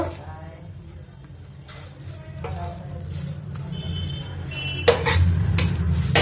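A flipped patishapta crepe sizzling softly in a pan, a low steady fry under a background hum, with a few light utensil clinks and stirring sounds scattered through.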